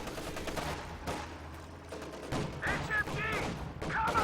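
Machine gun bursts and scattered gunfire in Company of Heroes 2, a World War II strategy game, during a 1v1 match, with an MG firing on combat engineers behind haystacks; dense bursts sit in a busy battle mix with faint talk.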